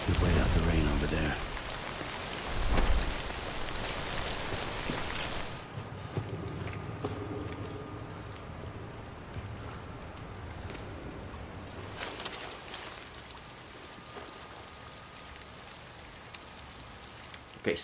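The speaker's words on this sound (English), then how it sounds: "Wait out the rain over there." Steady rain pours in the Death Stranding video game world, a dense broadband hiss that is loud at first, then softer and more distant from about six seconds, with faint low rumbles beneath and no talking.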